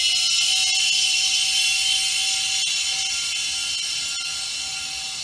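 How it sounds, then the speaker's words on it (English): Air tank inside a Hunter 3700 tire mounting machine filling with compressed air, a loud steady high hiss with a faint tonal hum, continuous and slowly fading over five seconds, no voices. "And that noise you hear, that's the air tank in it filling up."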